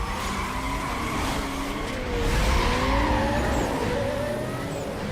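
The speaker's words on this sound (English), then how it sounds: "the Carrera sounds like a Formula 1 car" A Carrera race car in a video game screams at high revs, its engine note rising and falling in gear shifts with tire squeal mixed in, loud and continuous.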